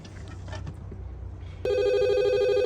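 A SpongeBob toy phone at a flea market starts ringing abruptly partway through, a loud, steady electronic bell tone that cuts in over quiet background murmur and keeps sounding to the end.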